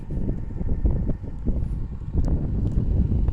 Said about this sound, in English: And it is windy out